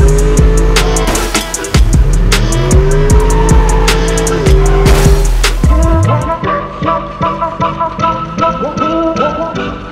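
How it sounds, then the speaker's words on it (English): Remote control racing cars on a racing game track at the London Motor & Tech Show scream past with high, whining electric motors, revving up and down in overlapping sweeps and tire squeals, loud and close throughout. "It's a remote control racing game and I'm gonna have a go now."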